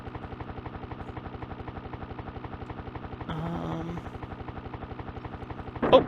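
In the SNES game Desert Strike, a helicopter powers up for takeoff with a fast, steady rotor chop. A brief engine tone rises in the middle, and a sharp louder burst comes near the end.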